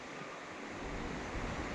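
Waves rolling in on Dahanu beach in Maharashtra at low tide, a soft continuous wash of surf mixed with wind rumbling on the microphone, quiet and without speech.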